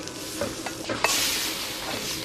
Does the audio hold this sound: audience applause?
no